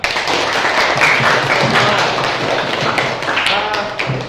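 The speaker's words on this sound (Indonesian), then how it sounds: "Tepuk tangan dulu." A group of people clapping together at a school activity on the Pancasila student profile project, a steady dense patter of hands lasting the whole stretch, close and fairly loud, with some voices talking underneath.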